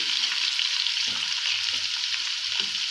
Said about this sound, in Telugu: ఇది బాగా వేగాలి ఫ్రెండ్స్.